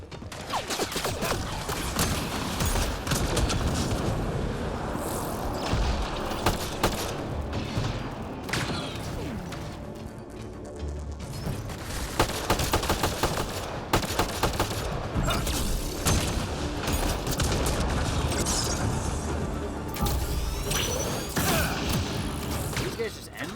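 Sustained gunfire in the sci-fi shooter Mass Effect Andromeda, dense bursts of rapid shots and impacts with booms and crashes nearly continuous throughout, loud and close, with a player's voice speaking briefly over the combat.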